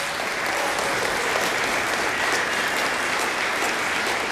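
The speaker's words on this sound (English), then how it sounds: "Let's give them another round of applause." Sustained, even applause from a concert audience at a high school spring orchestra performance, a dense wash of many hands clapping at steady volume throughout.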